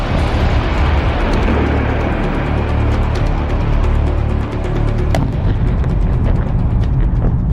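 A drone attack blast near the Kremlin dome, a dense, loud rumbling roar that holds for the full length with scattered sharp crackles and pops, and no clear single onset.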